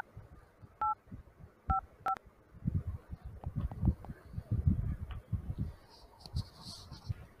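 Telephone keypad dial tones on an Android emulator running on a Chromebook: three crisp beeps in the first two seconds, followed by faint talking and background clatter.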